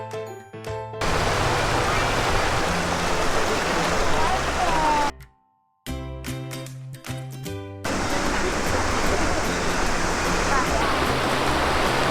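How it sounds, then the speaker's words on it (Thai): Waterfall pouring steadily as a loud, dense broadband rush at a waterfall on a Suan Phueng outing, briefly cut out by a short silent gap midway, then returning unchanged. "แช่น้ำตกกินเย็นนะครับสบายสบาย"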